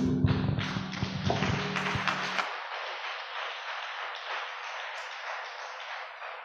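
A crowd claps steadily, starting over a fading musical tone and continuing as dense, sustained applause for several seconds.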